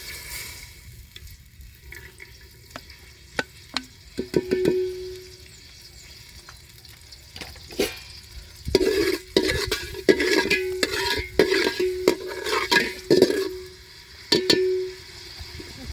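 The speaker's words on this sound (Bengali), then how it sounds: "তেলে পোলাওটা রান্না করে নিই তেল দিয়ে দিলাম" Polao rice fries in oil while a spoon stirs it, scraping and clinking against the pot in bursts over a soft sizzle, busier and louder in the second half.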